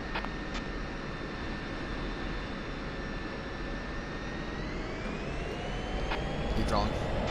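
Jet aircraft engines spool steadily for a takeoff roll in the DCS flight simulator, with a Bekaa Valley SA-6 strike mission setting; a continuous loud whine and roar holds, rising in pitch near the end, with radio voices talking over it.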